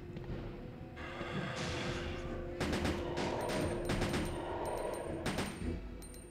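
Pistol shots ring out in the PlayStation Resident Evil 2 boss fight, several sharp cracks clustered in a rapid burst near the middle, layered over a steady bed of game music and ambience.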